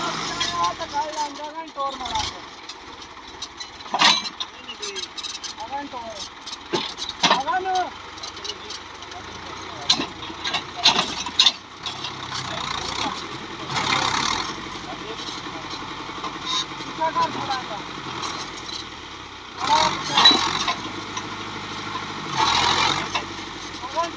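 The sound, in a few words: Fiat 640 tractor engine running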